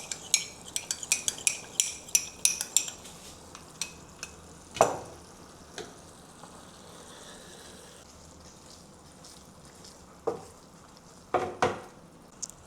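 Silken tofu with minced pork in a gentle sauce over low heat in a pan, a soft bubbling simmer beneath repeated light clicks and taps of a utensil against the pan, with a few sharper clinks scattered through.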